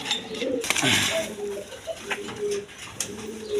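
Red Indian Bombay pigeons coo in a pen in repeated soft throaty phrases close by, mixed with light rustling and a few sharp knocks, while a person talks intermittently over them.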